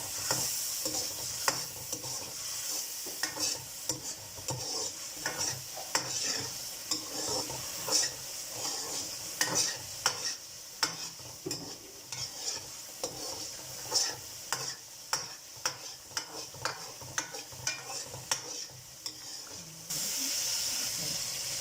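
Curry masala being stirred in a hot pan with salt, red chilli powder and turmeric for aloo gosht, giving a steady sizzle with repeated scraping strokes throughout, close and fairly loud, with no talking.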